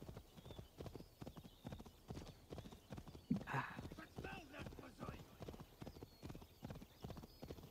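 Horse hooves clip-clop steadily in Assassin's Creed Valhalla, an even rhythmic trot of close hoofbeats that runs throughout, with a brief whinny-like burst midway and a voice talking over the top.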